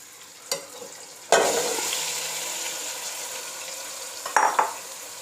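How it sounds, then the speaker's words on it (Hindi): Chicken pieces go into hot ghee, bursting into a loud, close sizzle that slowly settles into a steady hiss, with a couple of clinks and stirring knocks near the end, no talking. "तब तक हम इसी घी में चिकन डालते हैं।"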